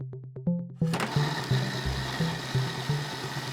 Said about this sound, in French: On récupère nos pois chiches cuits pour les mixer avec 450 ml d'eau